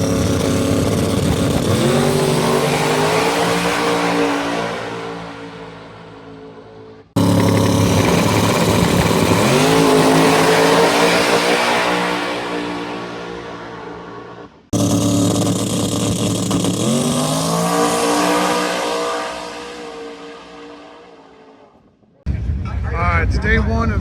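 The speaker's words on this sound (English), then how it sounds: "I'll get some video of the car making passes" A drag race car makes three separate passes, each one a loud engine roar that climbs through the gears and then fades as the car moves away, with short breaks between the runs.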